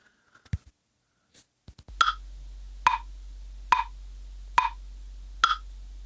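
A metronome app clicking at 70 BPM, picked up through a microphone: five evenly spaced sharp clicks just under a second apart, fairly faint, after a few small handling taps, over a low steady hum.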